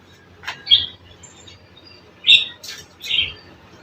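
Birds chirp in a few short, high tweets scattered across a quiet background, with brief pauses between calls.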